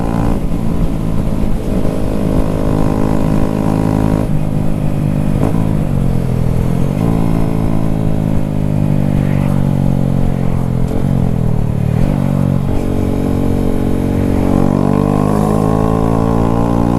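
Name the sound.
Honda Grom motorcycle with Zoom exhaust riding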